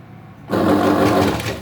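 After a half-second hush, an electric sewing machine starts up and runs steadily, stitching a V-neck blouse with a dense, continuous whir close to the microphone.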